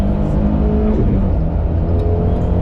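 A Suzuki Jimny with a 1.5-litre engine spins its wheels in second gear, the engine roaring loud and steady at high revs, close up, for the whole stretch with no talking.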